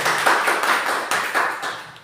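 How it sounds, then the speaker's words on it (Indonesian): Steady applause from a group, a brisk patter of many hands clapping together for a couple of seconds. "Kasih tepuk tangan."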